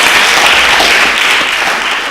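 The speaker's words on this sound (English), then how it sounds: "we give you a round of applause" Loud, dense applause from an audience at an international leadership and business summit, a continuous wash of clapping that fades a little toward the end.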